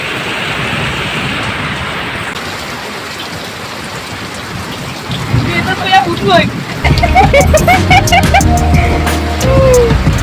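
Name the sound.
heavy rain during a storm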